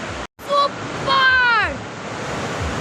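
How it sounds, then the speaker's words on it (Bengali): A waterfall in Dooars rushes with a steady, close broadband roar throughout, briefly cut out near the start, while short whistling tonal sweeps rise over it midway. "পিছন দিয়ে ঝর্ণা।"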